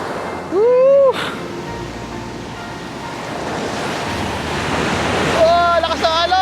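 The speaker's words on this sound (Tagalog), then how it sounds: "Oh, lakas ng alon!" Loud, strong ocean surf crashing and rushing close by at a tidal pool in Casiguran, Aurora, Philippines, with excited voices shouting and whooping briefly at the start and end.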